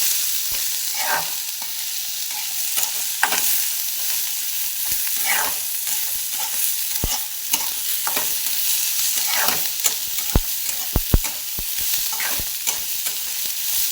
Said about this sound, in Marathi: तो असा 2-3 मिनटं असा परतून द्यायचा कांदा, असा सारखा हलवत राहायचा.